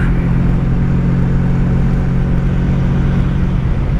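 A Honda V65 Sabre motorcycle's engine drones loud and steady with a deep rumbling tone under wind rush, holding an even pitch without an obvious break for a gear change.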